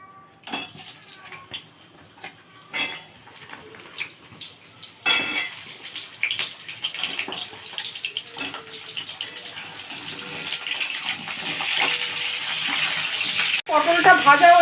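Slit pointed gourd (potol) dropped into hot oil in a kadai, starting with scattered clatter and rising into a dense, loud, continuous sizzle and spatter up close.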